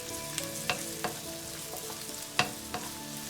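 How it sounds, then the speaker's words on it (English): Ginger sautéing in a pan for Kapampangan burong isda, a steady close sizzle punctuated by several sharp scrapes and clicks of a utensil stirring against the pan. "We need to stir it until it gets fragrant."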